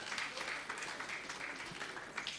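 An audience at a memorial lecture claps steadily for a couple of seconds, a dense, even patter of many hands.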